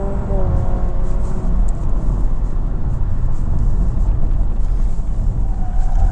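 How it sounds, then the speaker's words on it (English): A 2025 Honda Civic Sport Touring hybrid in sport mode accelerating on electric motor power, a steady low rumble of road and tire noise with a faint rising whine, heard from inside the cabin. "I am in the sport driving mode, and I do once again have the traction and stability control off. Yep, electric motor power."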